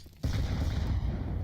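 Grenade blasts in a competitive first-person shooter esports match, heard as an abrupt loud burst after a short quiet lead-in, then sustained rumbling explosive noise with no talk.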